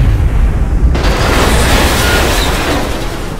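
A grenade blast in XCOM: Enemy Unknown, a loud broadband boom with a rumbling low-end tail that swells after a short delay and holds dense and sustained for several seconds with no talk over it.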